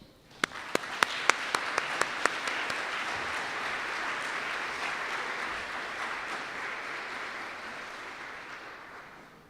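An audience at a keynote welcoming the speaker to the stage, breaking into a broad, steady wash of applause that swells quickly, with a few sharp individual claps at the start, then fades gradually near the end.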